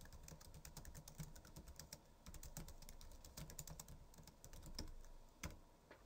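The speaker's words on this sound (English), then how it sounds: "I can then start typing here in the text box." Continuous typing on a computer keyboard, with steady rapid key clicks close to the mic and a few louder key strikes, alone with no talking.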